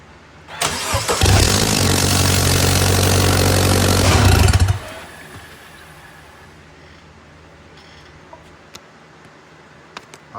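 A 2012 MINI Cooper R60 ALL4 S turbo engine, just repaired for oil leaks, cranks and catches into a loud close roar for a few seconds, then cuts off, leaving a quiet garage with faint clicks.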